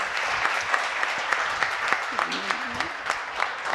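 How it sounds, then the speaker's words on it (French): An audience applauds contest candidates with loud, sustained clapping, a dense wash of hands with a few sharper claps popping out, and a brief voice murmuring underneath near the end. "On applaudit très, très fort pour eux."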